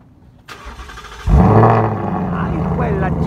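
A Ford Mustang GT's engine cranks and fires up with a sudden loud roar, then settles into a deep rumbling idle, with people talking nearby.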